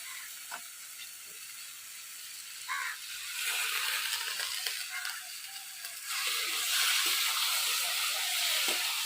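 Fried fish dropped into a simmering bottle gourd curry, a steady hissing sizzle that swells louder partway through, with a few faint clinks.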